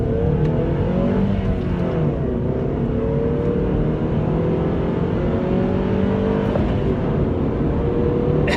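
Cabin sound of a 2017 Mazda5 minivan accelerating: a loud, continuous engine drone that climbs in pitch through the gears over road and wind noise, with no talking.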